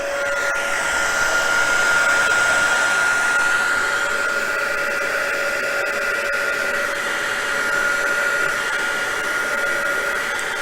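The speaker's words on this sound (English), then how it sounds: "when you're heat setting vellum like this, it can make it wrinkle, can make it curl up" A craft heat tool blows steadily while heat setting embossing on vellum, a constant whirring fan hiss with a high whine, close and unbroken throughout.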